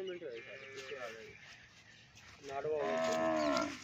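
A Sahiwal cross cow or calf on a Pakistani farm moos loudly and close by near the end, a drawn-out bellowing call that follows a spell of talking.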